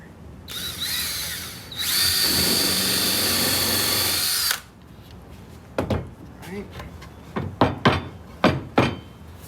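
A power drill drives screws with a square drive bit while installing a speed divider, one steady whir for a few seconds followed by a run of short knocks and clicks.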